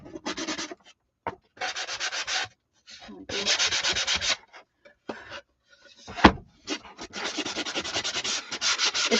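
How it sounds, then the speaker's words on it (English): Wood being sanded for a DIY coffee bar: several bursts of scratchy rubbing strokes, close and loud, separated by short pauses. "I always start with sanding like really lightly and then find I really like it strong"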